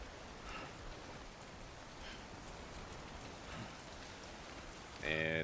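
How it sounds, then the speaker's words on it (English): Steady rain falling in the video game Death Stranding, an even hiss of drops on surfaces running throughout at moderate level, with a brief tonal game sound at the very end. "Never mind, that's rain."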